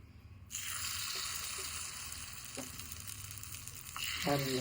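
Appe batter made from cabbage and rice sizzles in a hot, oiled appe pan, a steady broadband hiss starting abruptly and holding throughout, with a few light clinks and a louder scrape near the end.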